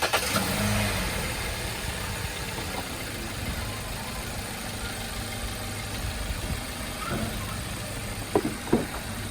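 A 2012 Hyundai Sonata's engine runs steadily near at hand, idling and then rising slightly as the car rolls back off service stands after an oil change, with a few knocks near the end.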